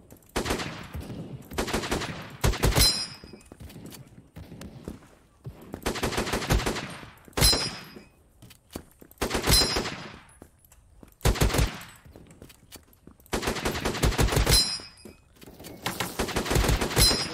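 Repeated bursts of shotgun fire in the browser shooter Krunker.io, loud rapid blasts clustered in volleys with short gaps between, continuing throughout without talk.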